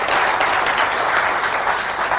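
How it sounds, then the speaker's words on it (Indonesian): Steady, loud audience applause fills a hall at a business recognition event, dense clapping from many hands sustained evenly throughout with no talk over it. "Layak tepuk tangan itu diberikan buat Mbak Lela"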